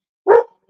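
A single sharp, loud dog bark sounds close by, followed by the start of a second quieter one.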